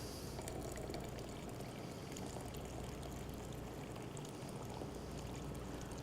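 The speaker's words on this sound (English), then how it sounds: "Now I'm going to pour the rest of my water in." Hot water poured into a French press of coffee grounds, a steady continuous splashing pour at moderate level that runs for several seconds without pause or speech.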